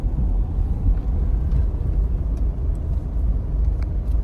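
A car cruises steadily at 60 to 70 km/h along Mumbai's coastal road near Marine Drive, with a constant low engine and road rumble from inside the cabin and no break in the drone.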